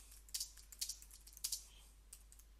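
Faint bursts of typing on a computer keyboard, a few quick clicky keystroke clusters spaced through a couple of seconds over a quiet low hum, with no voices.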